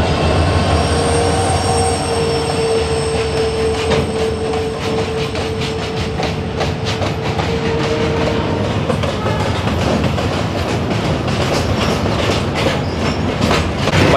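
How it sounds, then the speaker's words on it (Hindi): A goods train rolls past on railway tracks near Bellary, a loud steady rumble with rhythmic clickety-clack of wheels and faint squealing tones, continuous and close throughout. "यहाँ पे गुड्स ट्रेन काफ़ी ज़्यादा देखने को मिली।"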